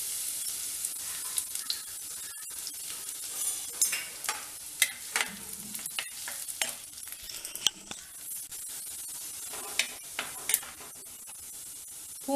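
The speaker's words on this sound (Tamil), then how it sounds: "இப்போ பூண்டை போட்டு நல்லா ப்ரௌன் கலரில் நல்லா வதக்கிடணும்." Garlic fries in hot oil with cumin seeds, sizzling steadily as a spoon stirs it around the pan, giving irregular light scrapes and metallic clinks over the continuous hiss.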